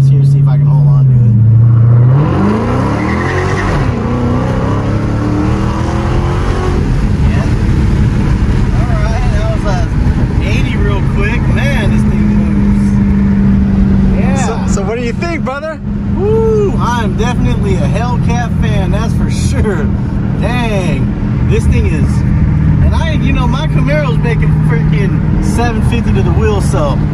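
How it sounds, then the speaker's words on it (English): A 700-horsepower stock car accelerates on its first test drive, the engine revving up and holding a strong steady drone while people talk over it inside the car. "We're just gonna give it a little bit of gas here, see if I can hold on to it."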